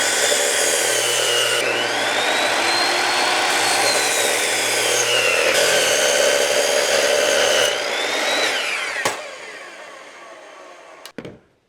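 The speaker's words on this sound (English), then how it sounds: "I'm going to cut this into 4 24-inch legs for the corners" Power saw cutting through an 8-foot pressure-treated 4x4 post for chicken coop legs, a loud sustained whining cut lasting several seconds before winding down, followed by a sharp knock or two.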